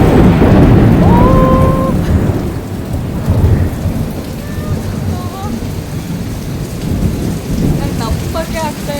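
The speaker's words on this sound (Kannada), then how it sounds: "ಮಳೆ ಬರ್ತಾ ಇದೆ." Heavy rain and rolling thunder in Kerala, with loud dense rain on surfaces throughout and low thunder rumbles. Faint whistle-like tones rise over the downpour.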